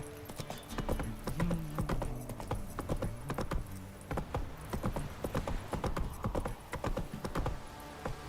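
Horse hooves galloping in The Witcher 3 video game, a dense, steady clip-clop of hoofbeats with occasional snorts and harness jingles, fairly close and continuous.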